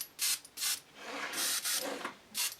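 Short bursts of a Badger 360 airbrush spraying white paint, hissing on and off in several quick passes with brief pauses between them, close and fairly quiet.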